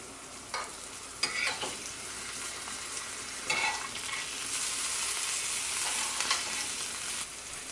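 Vegetables going into a pan of frying aquafaba plant-based omelette with vegan cheese, giving a steady sizzle with scattered stirring and scraping bursts, close and alone without voices.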